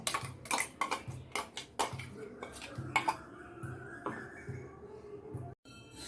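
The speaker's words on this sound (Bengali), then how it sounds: "একটা বাটি নিয়ে নিলাম, এবার এই পুরো পেস্টটা এই বাটির মধ্যে ঢেলে নেব" Spice paste scraped from a grinder jar into a bowl: a run of irregular metallic clinks and scrapes of a spoon against the jar and bowl, close and fairly quiet.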